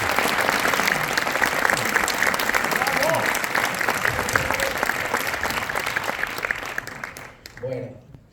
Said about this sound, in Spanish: El más fuerte aplauso que le podáis dedicar,